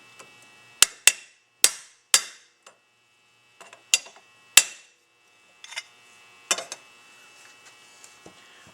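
Hammer and chisel staking a valve on an AC 4377 Nash Hudson AMC part, giving a series of sharp metallic clanks in uneven pairs and singles, close and loud against quiet, with lighter taps near the end.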